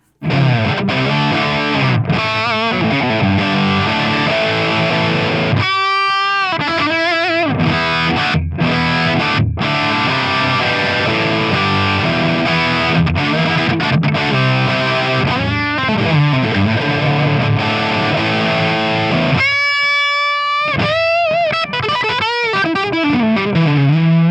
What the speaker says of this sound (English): We can get some crunches, maybe start at a low gain setting.